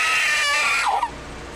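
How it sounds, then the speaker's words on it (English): A woman's scream, used as a stock sound effect: a loud, high, sustained shriek that holds steady and then breaks off sharply near the end, with a short trailing tail after it. "10 should be a female screaming."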